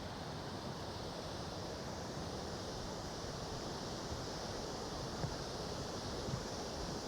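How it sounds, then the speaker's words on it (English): The waterfalls at Kuldiga, Latvia, give a steady, broad rushing roar, a constant wash of falling water with no pauses or talking. "See how close we can get to the waterfalls."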